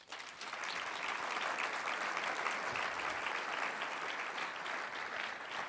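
Sustained applause from a large audience at a developer conference opening, loud and dense, holding steady for several seconds without any talking.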